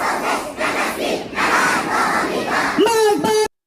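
A large crowd at a night rally in Tehran chants a rhythmic anti-American slogan in unison, loud and dense, with a rising shout near the end before the sound cuts off abruptly.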